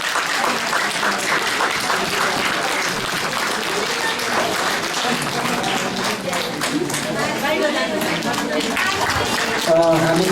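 A congregation claps at the 25th anniversary celebration of Resurrection (Punarutthan) Ecclesia church in Kathmandu, a steady, fairly loud round of applause running beneath voices talking over it.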